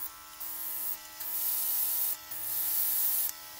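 An airbrush compressor hums steadily while short bursts of stencil ink spray hiss on and off in about four pulses, close and fairly quiet.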